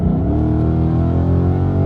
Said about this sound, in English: But if I was to floor it again from here,